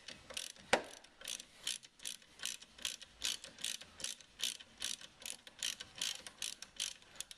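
Ratchet wrench with a 16mm socket working the wiper arm nut on a Range Rover L322, a quick run of about fourteen sharp, evenly spaced clicking strokes close up, with no talk.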